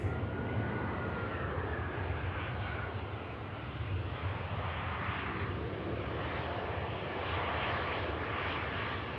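An easyJet airliner landing at Manchester Airport, its engines giving a steady, broad roar with a slowly shifting whine, moderately loud and unbroken.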